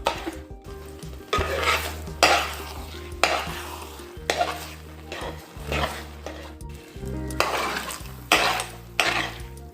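Beetroot halwa is stirred in a pan with a spoon, a rhythmic series of scraping sweeps repeating every second or so over a soft sizzle, close up with no voices.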